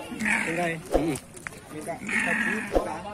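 Goats bleat at a busy livestock market, two drawn-out bleats a couple of seconds apart, close and fairly loud, with someone talking and crowd noise underneath.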